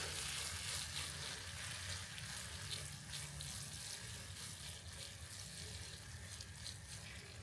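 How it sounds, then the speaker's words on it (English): Watering a container-grown plant in a summer garden: a steady, soft hiss of water spraying into soil, continuous and even throughout, fairly quiet with no talk. "let's water this one in"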